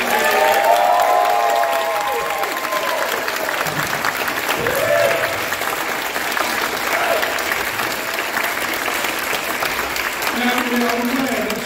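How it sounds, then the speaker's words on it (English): Sustained audience applause fills a room at a Doctor Who convention panel at Pensacon 2023, with some cheering and faint voices mixed into the steady clapping throughout. "Everybody give them a big round of applause."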